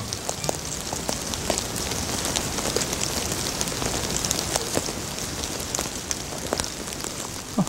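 Water runs and splashes steadily in an abalone tank at Wando, a dense hiss of spray and trickling broken by scattered small drips and clicks, moderately loud and close with no talking.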